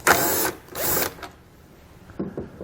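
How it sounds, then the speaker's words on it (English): A power tool spinning a T15 Torx socket to back screws out of a 2019 Chevrolet Equinox, two short whirring bursts close by, followed by quieter clicks and a brief final buzz. "we're going to find two screws that we're going to take out with a T15 torque socket"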